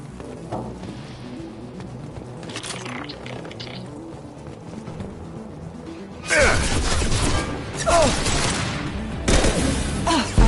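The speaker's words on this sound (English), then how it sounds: "I love this rifle." Rifle fire in the sci-fi shooter Mass Effect 2 Legendary Edition, quieter scattered clatter at first, then several loud, dense bursts of shots close by, with talk mixed in.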